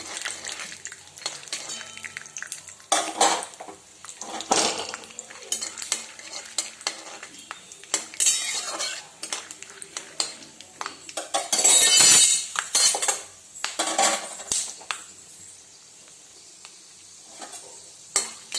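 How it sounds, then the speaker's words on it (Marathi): Peanuts roasting and frying in a pan, dry sizzling with repeated scraping and stirring strokes and occasional metallic clinks of a spoon against the pan, close and fairly loud with no voices. "शेंगदाणे छान भाजलेले आहेत तळून एकदम चॉकलेटी कलर आलेला आहे"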